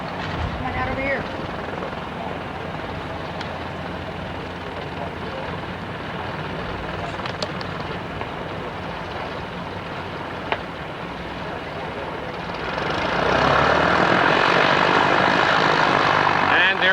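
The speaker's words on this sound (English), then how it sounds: "There he goes now, taxiing out for takeoff." Small airplane on a first solo flight taxiing out for takeoff, its propeller engine a steady distant drone that grows louder near the end, with brief talk and radio chatter mixed in.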